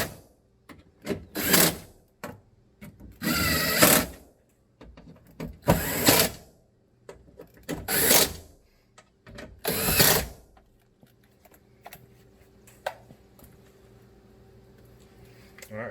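Power tool driving the window regulator bolts on a Honda Accord: five separate loud bursts of whirring and ratcheting, each a second or so long, spaced a couple of seconds apart, followed by quieter clicks and handling noise.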